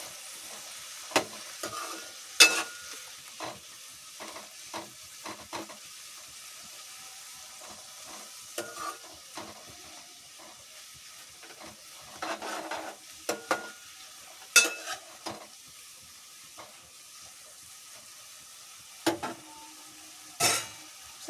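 Ingredients for a dhaba-style paneer masala curry lightly frying in a pan, a soft steady sizzle broken by scattered scrapes and stirring clinks of a utensil against the pan, with no talking.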